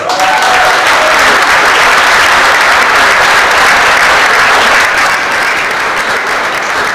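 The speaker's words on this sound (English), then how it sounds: "Please give a huge round of applause for Maria Espinoza." A large audience at a political forum breaks into a huge, loud round of applause, a dense unbroken wash of clapping held steadily for several seconds with a cheer near the start.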